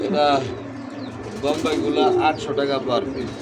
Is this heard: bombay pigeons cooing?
yes